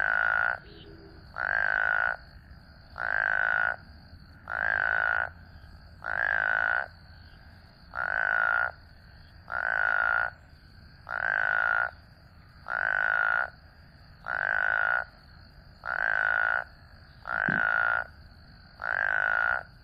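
A small frog or toad gives a quacking call, repeated in a steady rhythm of about a dozen evenly spaced, loud, close croaks, alone against a quiet background.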